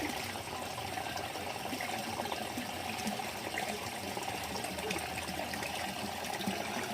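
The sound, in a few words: water draining from an aquaponics grow bed into the fish tank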